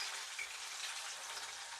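Plantain fries in oil in a pot over a very low fire, giving off a faint, steady crackling sizzle with no voices over it.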